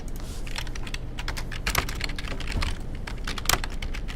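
Fast, steady typing on a computer keyboard while writing code, with close, crisp clacking keystrokes, a few louder key strikes, and no talking.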